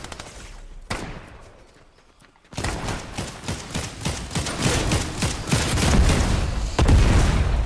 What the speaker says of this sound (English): he's throwing all them bombs